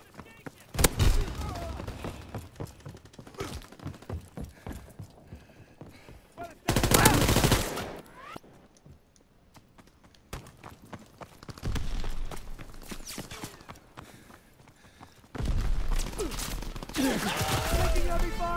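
Gunfire in a Call of Duty WWII battle through a station, with loud bursts of rifle and machine-gun fire in irregular volleys, some close and heavy, others trailing off, separated by brief quieter stretches.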